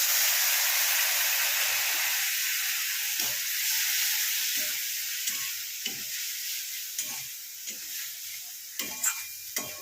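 A pan of frying prawns, heads left on, gives a loud sizzling hiss as a little water goes in, the hiss slowly fading while repeated spatula scrapes and knocks punctuate the stirring.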